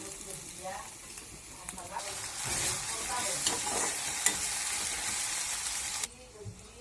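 Onions, ginger and garlic sizzle steadily in a hot pan while a utensil stirs and scrapes, the frying noise swelling loud before cutting off abruptly near the end.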